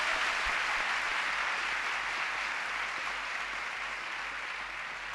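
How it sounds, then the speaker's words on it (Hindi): A large audience claps steadily after being invited to show they are happy, a dense, even wash of applause that holds at a fairly constant level throughout without any voices. "If you are happy, clap your hands."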